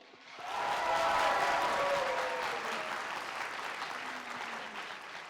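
An audience bursts into loud, sustained applause to open a youth mock trial competition awards ceremony, swelling quickly and then gradually thinning out.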